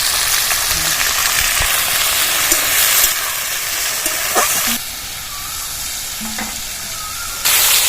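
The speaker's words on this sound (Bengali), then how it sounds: "উচ্ছে আলু কড়ার মধ্যে দিয়ে দিচ্ছি লবণ দিয়ে দিলাম" Bitter gourd and potatoes fry with salt in a wok over a dried red chilli tempering, giving a steady, close, hissing sizzle that drops slightly partway through and carries on without pause.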